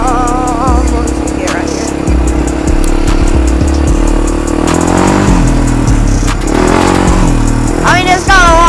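Honda 300EX ATV engine revving loudly and continuously while being ridden, close and steady with rising and falling pitch, with someone talking briefly over it.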